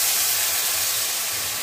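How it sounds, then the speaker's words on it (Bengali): Water poured onto fried spice paste in a cooking pan gives a loud, continuous steamy hiss that holds steady throughout the short moment with no talking. "মশলা কষে গেছে, আমি এখন সামান্য জল দিয়ে একটু নাড়াচাড়া করে নামিয়ে দেব"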